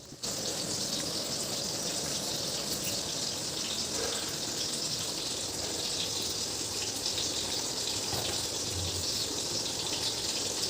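A continuous steady rush of water pouring into a simmering curry, running without pause for several seconds at moderate volume.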